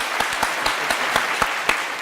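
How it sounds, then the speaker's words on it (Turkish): A studio audience on a Turkish game show applauds, a steady patter of clapping with a few sharper claps standing out through the burst. "Bir alkış kendisine."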